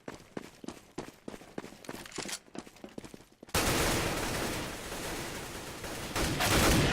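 Rifle fire in a competitive Counter-Strike match: sharp, rapid shots in quick bursts at first, then giving way to a loud, continuous wash of sound that holds to the end.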